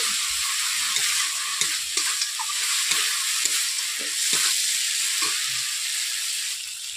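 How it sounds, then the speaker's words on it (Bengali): Spice paste for okra posto sizzles and fries in a pan, a steady bright hiss with soft stirring scrapes and small pops recurring throughout, close and alone. "আমি মশলাটাকে 2 থেকে 3 মিনিট এইভাবে আমি কষিয়ে নিচ্ছি।"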